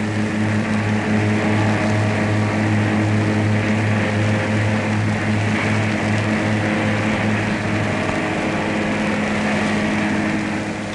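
Several Peugeot 403 engines run together on a factory test bench at the Sochaux plant, a loud steady drone with strong low hum and harmonic tones filling the whole stretch without pause.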